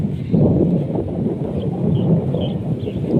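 Steady wind at Hua Hin beach in Thailand, a rocky stretch of shore, rumbles and buffets the microphone in a continuous low roar with no voices.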